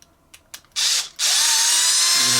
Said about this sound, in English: we're gonna get our little drill bit there